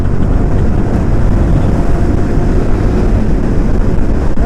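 Riding a Bajaj NS 200 motorcycle, a loud, steady engine roar mixed with heavy wind rush against the microphone, constant throughout with no talk.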